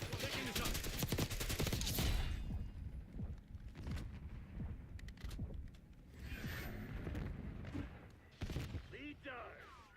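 Gunfire in a tactical shooter video game fills the scene, with a rapid burst of shots up front, then scattered single cracks and thuds over game noise while a player talks.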